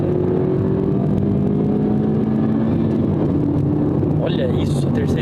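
A Ford Fiesta S 1.5 accelerates hard, its engine droning steadily and rising in pitch inside the cabin, a continuous loud roar throughout with a brief higher whine near the end.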